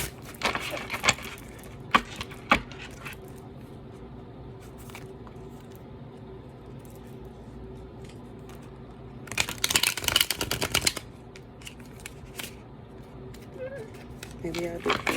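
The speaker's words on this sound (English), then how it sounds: "I am going to shuffle the cards 2 times" Tarot cards being shuffled by hand close up, with brief riffling bursts near the start and a longer crisp flurry around the middle, set against a quiet room.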